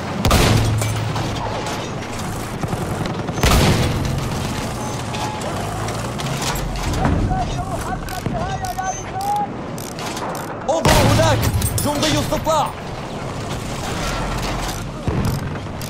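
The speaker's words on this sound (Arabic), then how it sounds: "هذا مدفع الرشاش للعدو." Enemy machine gun fire rattles in Battlefield 1 amid booms, mechanical clatter and battlefield noise, with bursts near and far and game voices calling out.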